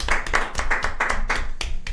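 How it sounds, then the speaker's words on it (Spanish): Audience clapping in quick, dense bursts for a guest arriving at a talk show, steady and loud throughout. "Un aplauso. Un aplauso."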